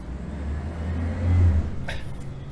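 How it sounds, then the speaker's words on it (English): A garbage truck rumbles past outdoors, a low engine drone swelling to a peak and easing off, moderately close with no talk. "you guys want to hang out while the garbage truck goes by?"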